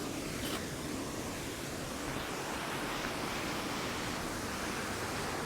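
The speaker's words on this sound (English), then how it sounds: "I guess I'll show you the waterfall that you're next to" The Pahanthudawa waterfall gives a constant, dense roar close by, an unbroken wash of falling water with no pauses or voices.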